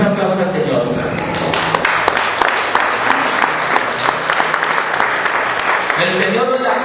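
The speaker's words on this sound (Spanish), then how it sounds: "Denle un aplauso al Señor" A church congregation applauds with dense, continuous clapping, loud and sustained, with voices mixed in.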